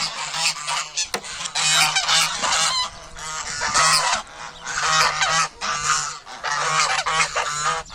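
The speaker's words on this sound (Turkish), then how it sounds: "Ay kazlarımız sesini duyunca bağırmaya başladılar." A flock of geese honks loudly and insistently, overlapping calls in bursts with brief pauses, close by.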